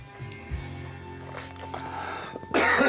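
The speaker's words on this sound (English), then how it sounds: "I got a cough and a little tickle in my throat here." A man coughs and clears his throat in a few short, scattered bursts close to the listener, ending in a louder rough cough.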